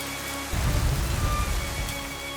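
Rain begins abruptly in the Sahara Desert and patters steadily on a surface, a soft continuous rush of drops over a faint low hum.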